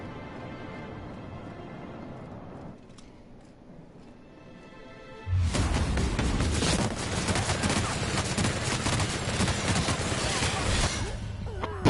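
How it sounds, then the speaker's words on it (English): A minigun firing in the video game The Outer Worlds, a sudden loud, dense stream of rapid shots that starts after a few quieter seconds and continues unbroken for about six seconds, then cuts off. "we're just gonna go minigun on this one"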